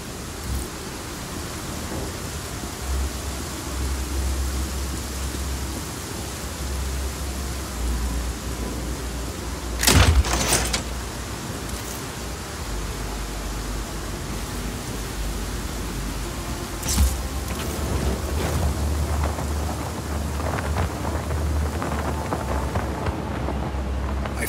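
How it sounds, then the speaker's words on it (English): Storm in Just Cause 4: constant roaring wind and rain noise with two loud thunder cracks, one near ten seconds and a lighter one near seventeen, followed by rumbling bursts. "Storm's rolling in."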